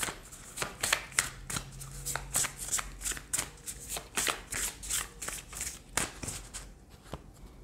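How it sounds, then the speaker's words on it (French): Oracle cards being shuffled by hand, a quick series of crisp riffling flicks in a steady rhythm, close and fairly quiet, with no talking. "Alors, on va prendre d'autres cartes."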